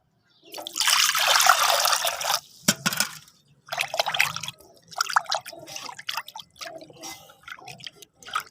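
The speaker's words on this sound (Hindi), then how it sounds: "इसमें और पानी डाल देते हैं।" Water pours and trickles into a mixture in short bursts, close by, with a splashy first pour followed by several smaller dribbles and pauses.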